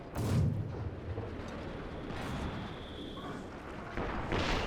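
A B-4 howitzer firing in Company of Heroes 2 during a 2v2 match: a deep boom opens, a softer rumble and a hissing tail follow, then another blast lands near the end.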